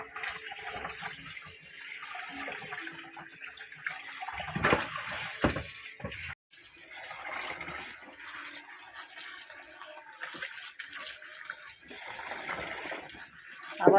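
Steady running water while coriander leaves are washed, a faint continuous splash and hiss with brief louder gushes and a short break partway through.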